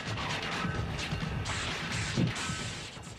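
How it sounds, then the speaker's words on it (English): Storm surge waves from Hurricane Isabel, a Category 2 storm, crash through a coastal community in a steady, loud roar of turbulent water with a heavier surging crash near the end. "nature is defiant and sends a massive surge crashing through the vulnerable community"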